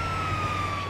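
Brief burst of a Grand Theft Auto 5 ambulance siren: one sustained, slightly dropping tone over a steady engine rumble, close and continuous, with no voices.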